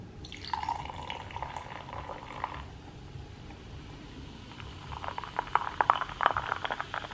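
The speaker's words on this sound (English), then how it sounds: "I'm gonna be a little foul and pour this into a mug" A beverage pours into a mug in two short bursts, faint trickling and gurgling with drips, quiet and close, no talking.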